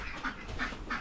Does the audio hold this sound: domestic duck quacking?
yes